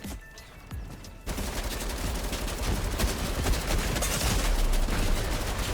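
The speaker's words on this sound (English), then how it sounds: "This is where the LMG really shines" A light machine gun in the Fortnite video game fires a long sustained burst of rapid, loud shots after a brief quieter moment, with no talk over the gunfire.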